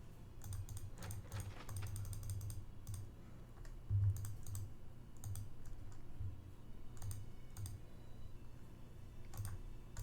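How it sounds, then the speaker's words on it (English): Mouse clicks from someone playing a computer game come in rapid bursts and scattered single taps, close and crisp over a quiet hum, with no talking. "I might be clicking too quickly."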